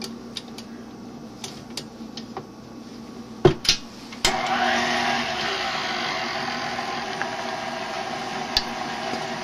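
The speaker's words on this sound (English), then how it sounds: "with your mixer still on low" An electric mixer on low speed, beating a mixture whipped to soft peaks for cookies: a few clicks and taps, then a steady, even whir that starts partway through and runs to the end.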